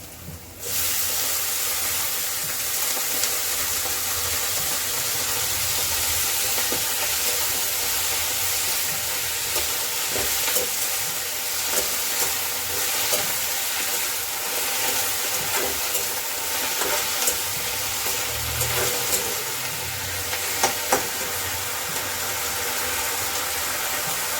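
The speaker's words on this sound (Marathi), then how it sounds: "आणि आता ही धुतलेली मेथी आपण यामध्ये घालून घेणार" Washed fenugreek leaves (methi) go into a hot pan and fry with a steady, close sizzling hiss that holds throughout, with a few faint stirring scrapes near the end and no talking.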